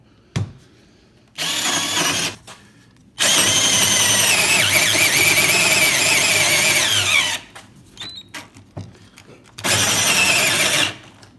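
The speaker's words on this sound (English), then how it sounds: "Let's see how it does drilling a hole." A Harbor Freight toy drill bores into a hard Ipe deck board, whining in several loud bursts of a few seconds each, with a long steady run in the middle and short gaps between.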